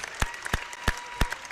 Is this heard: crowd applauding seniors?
yes